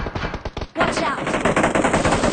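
Rapid automatic gunfire from the video game PUBG rattles out in loud, close bursts, with a short pause before a dense, continuous stream of shots.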